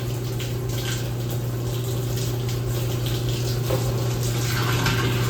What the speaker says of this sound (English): that pushes that clean water into my hose. Now that water is pushing out the resin.